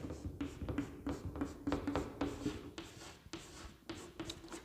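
Chalk or marker scratching across a board during a physics lesson on pulleys, in a quick series of short strokes and taps with small pauses between them, close and moderately quiet.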